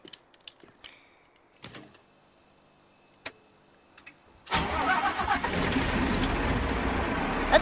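Ground power unit in an airport video game starts with a few scattered ticks and clicks, then at midway bursts into a loud, steady engine-like roar with a dense rumble that holds to the end.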